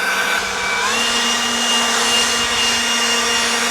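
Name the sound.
leaf blower running on turbo setting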